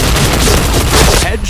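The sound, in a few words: grenade explosion in a video game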